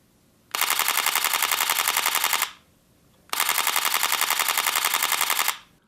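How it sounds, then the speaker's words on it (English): Two bursts of rapid shutter fire from a Sony A6300 camera at 11 frames per second, each about two seconds of fast, even, loud mechanical chattering, separated by a short pause. "and this is 11 frames per second burst."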